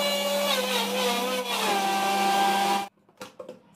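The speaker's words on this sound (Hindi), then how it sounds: "और बस अब इसे ग्राइंड कर लेते हैं।" A blender grinds watermelon with black salt and roasted cumin powder, its motor whining steadily and close for about three seconds before shutting off, followed by a few faint knocks.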